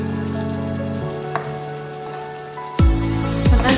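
Meatballs sizzle and fry in a pan while a chicken curry is cooked, a soft steady crackle with a few clinks, swelling to a louder, sharper hiss near the end as more pieces hit the hot oil.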